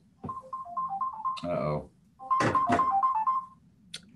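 A phone ringtone chimes a repeating melodic tune for an incoming call, breaks off under a short spoken exclamation, then plays again, clear and fairly close.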